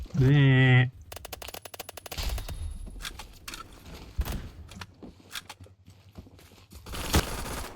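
Gunfire in the online shooter Phantom Forces: rapid automatic bursts and single sharp shots crackle unevenly, with a loud tone at the start and a player talking over the action.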